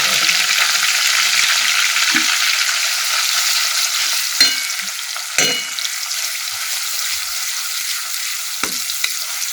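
Masala paste sizzles and fries in a pan while cooking a Gujarati drumstick pulp and potato curry, a steady bright hiss with a few sharp clinks of a utensil stirring.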